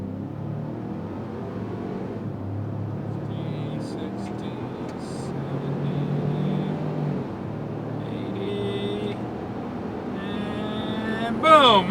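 A 2025 Ford Expedition King Ranch accelerates hard from a standstill while towing a 7,000-pound trailer, its engine note building steadily over about twelve seconds beneath people talking inside the cabin.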